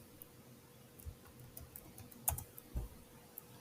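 Quiet keystrokes on a computer keyboard. Scattered soft clicks are heard alone, with a couple of slightly louder taps in the middle.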